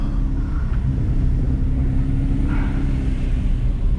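A Porsche rolls along the road, giving a steady low engine rumble and road noise inside the cabin, even and unbroken with no talking.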